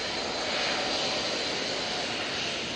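A TUI airliner landing at Manchester Airport makes a loud, steady jet engine roar with a bright hissing whine, continuous and close, with no talk.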